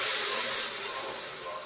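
Water poured into a hot pan of vada curry with chili powder sizzles with a loud, steamy hiss that settles and fades over a second or two.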